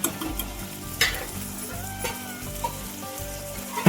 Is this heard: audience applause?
no